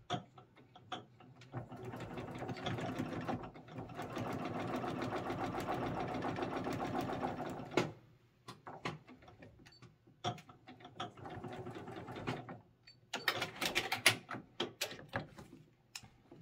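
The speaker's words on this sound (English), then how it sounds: "I always do a front stitch and a back stitch always" A sewing machine stitches a quilt binding seam in a steady run of several seconds, then in shorter stop-start bursts for the back stitch, with clicks and handling between them.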